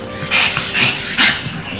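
Small French bulldog puppies give three quick, high yips and whimpers at an even pace, close and fairly loud, with faint room noise between them.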